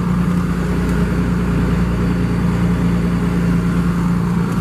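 A Ford F700 truck's engine hauls a 38,000-pound trailer with a steady, loud mid-pitched drone and rumble that holds constant throughout, with no voices.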